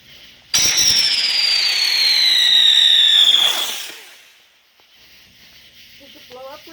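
Fourth of July fireworks at a backyard party, one rising whistling shell screaming loudly for about three seconds and then fading, with faint crackle and noise afterward.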